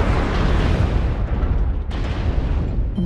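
A destroyed mech explodes in MechWarrior Online as one sustained, loud, rumbling blast that fills the whole stretch, broad and heavy, with a sharper burst partway through and no voices over it.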